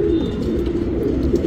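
A male Makshi pigeon coos close by in a steady, low, throbbing run that carries through the whole stretch, with no voices over it.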